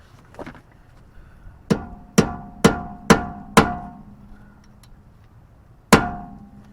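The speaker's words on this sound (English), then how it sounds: "We're gonna use the punch. And we're gonna put a crease right here." Six sharp metallic hammer strikes on a punch, creasing the CV axle nut of a 1998-2002 Honda Accord during axle replacement; five come in quick even succession, then a pause before a final ringing blow.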